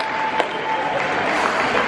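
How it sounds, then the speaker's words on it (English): An audience clapping at a kids' event where Blippi appears, a dense, steady patter of many hands close by, with a faint tone running through the first half. "Ask them to come on so we can give them a round of applause"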